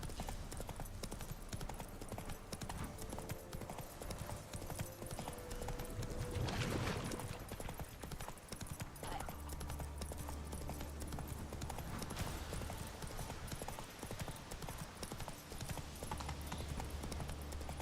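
Horse hooves clip-clop steadily and continuously in The Witcher 3: Wild Hunt, a brisk running rhythm set within dense game music and ambience.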